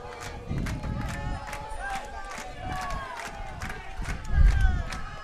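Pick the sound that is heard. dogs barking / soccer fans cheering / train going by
soccer fans cheering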